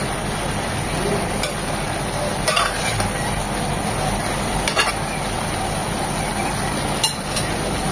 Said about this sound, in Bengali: এভাবে ভাজা ভাজা করে নেব একটু নেড়ে চেড়ে